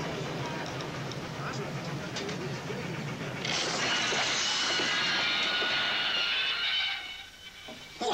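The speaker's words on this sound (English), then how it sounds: "The Venice Simplon Orient Express." The Venice Simplon Orient Express rolls along with a steady rumbling rail clatter that swells louder midway then drops off, with a voice speaking over it.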